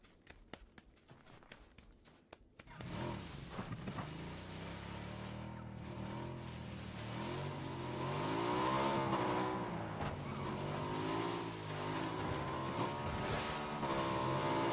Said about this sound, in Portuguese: Vou pegar minha moto aqui, velho. Vou de moto.